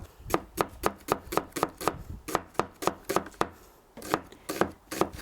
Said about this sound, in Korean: 그 양파 세개를 썰어 놓으시면 돼요.